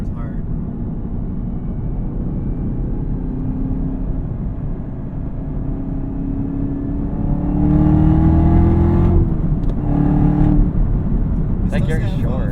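Supercharged engine of a 2021 Camaro ZL1 accelerating hard, a steady loud drone that climbs in pitch, swells louder and briefly dips around a flat-foot upshift, then pulls again, with a voice talking over it.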